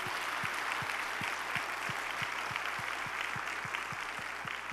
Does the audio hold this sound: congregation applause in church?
yes